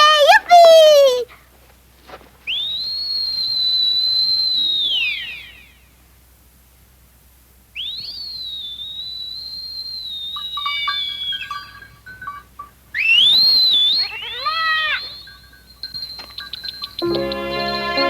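A girl whistles several long, high, sustained notes with gaps between them in a French-dubbed Heidi cartoon, and brief voices and animal-like bleats come in around the whistles.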